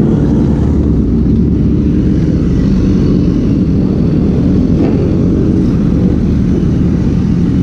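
Iqbal Gangla's 250 cc motorcycle runs with a loud, steady, close engine drone that holds without a break, heard out on a group ride in Multan.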